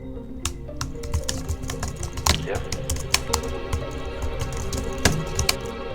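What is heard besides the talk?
typing on a keyboard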